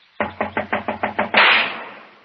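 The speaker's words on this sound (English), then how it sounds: "Knock again, if you don't mind." Seven sharp, evenly spaced knocks on a locked door in an old Sherlock Holmes radio drama, loud and close, followed at once by a louder burst of noise that decays slowly.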